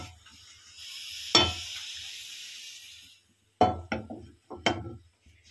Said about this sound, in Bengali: এবার এই পাত্রের মধ্যে আমি বড় চামচে 1 চামচ মতো তেল দিয়ে দিলাম।